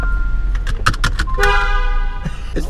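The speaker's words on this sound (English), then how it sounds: "Honk." Car horn honking out on the road, a sustained tonal blare rising over steady engine and road rumble inside a moving vehicle, with short knocks and rattles around it.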